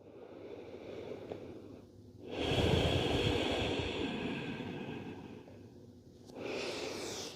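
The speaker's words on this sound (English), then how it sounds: "Nice, deep, even breaths here." Deep, even breathing during a yoga child's pose, close and fairly loud: a long, rushing exhale that swells and slowly fades, then a shorter, breathy inhale near the end, with no talking.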